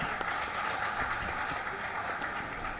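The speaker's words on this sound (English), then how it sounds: "Ladies and gentlemen, can we have a round of applause to Madhavi Nimesha once again?" A crowd at a scoliosis awareness walkathon and free clinic claps for Madhavi Nimesha, a continuous, moderately loud patter of applause that holds steady throughout.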